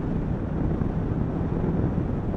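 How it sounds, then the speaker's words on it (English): Wind on a hilltop near Kirkstone Pass during a motorcycle ride, a constant low rumbling buffet of air across the microphone, steady and fairly loud with no voices. "So it's quite windy up here,"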